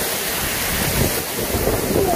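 A storm sweeps over a fishing spot, giving a steady, dense roar of heavy rain and wind with low rumbling throughout, loud and unbroken for the whole stretch.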